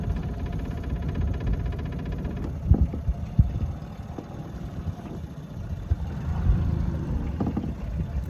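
A fishing boat's motor runs steadily while the boat is repositioned near a side bank during fluke fishing, a low continuous throbbing drone with a few brief knocks and some wind noise.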